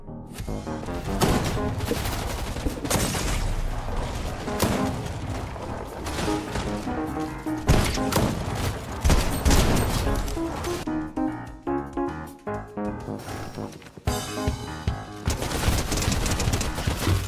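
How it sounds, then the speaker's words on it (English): Dense gunfire in the battle royale game Fortnite, with rapid bursts and repeated shots stacking into a loud, continuous barrage throughout, broken by a few short gaps. "How did the bro get a gun?"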